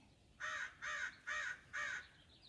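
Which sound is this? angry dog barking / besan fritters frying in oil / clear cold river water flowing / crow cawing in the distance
crow cawing in the distance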